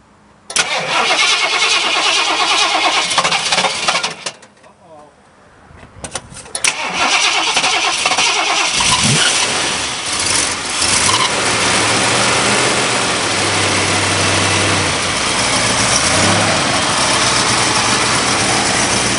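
A Ford Torino Squire with a Super Cobra Jet engine and solid mechanical lifters cranks and fires up, cuts out briefly, then restarts and settles into a loud, lumpy idle from a rumbling cam, close by.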